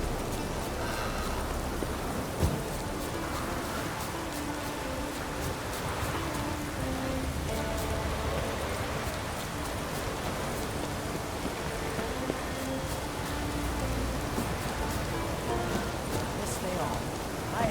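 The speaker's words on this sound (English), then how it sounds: "It's raining. Put on your tunic." Steady rain falls in The Witcher 3, a continuous hiss of drops on surfaces at an even, moderate level, with game sounds and occasional spoken voices layered over it.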